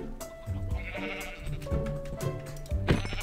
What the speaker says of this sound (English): Ah, there's a sheep.